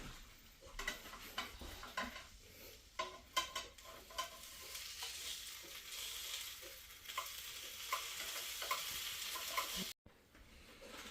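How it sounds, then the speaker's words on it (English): A grilled vegetable and cheese sandwich sizzles softly in a pan while a utensil scrapes and clicks against it in irregular bursts, close and fairly quiet. "our sandwich is ready. It's sizzling"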